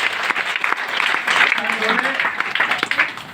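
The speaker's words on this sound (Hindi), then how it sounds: "एक जोरदार ताली सर के लिए" Applause from an audience at a gathering, dense hand clapping throughout, fairly loud and close, with voices and cheers mixed in.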